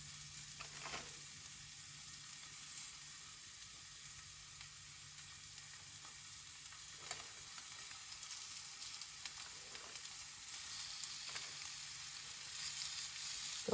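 Porcupine meatballs sizzle in a hot oiled pan, a steady soft frying hiss with occasional faint pops and a low background hum, growing slightly louder toward the end, no voices.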